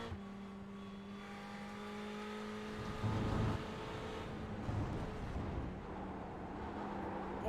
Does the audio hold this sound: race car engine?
yes